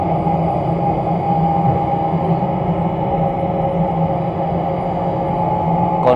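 A steady, continuous rumble of the Batara Kresna passenger train rolling along street-running tracks between Purwosari and Wonogiri, with low engine drone and rattling throughout, loud and close.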